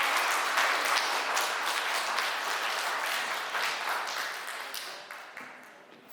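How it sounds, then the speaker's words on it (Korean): After a brass band's performance at an outdoor talk concert, the crowd gives a big round of applause for an encore; dense clapping starts loud, then gradually thins and fades toward the end. "큰 박수 부탁드립니다."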